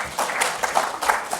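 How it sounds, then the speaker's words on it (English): Audience applause for a group of volunteers called up on stage during a public science talk, a moderate burst of clapping with a few voices mixed in, filling the short moment at steady volume. "Can we give them a round of applause for being really great and volunteering?"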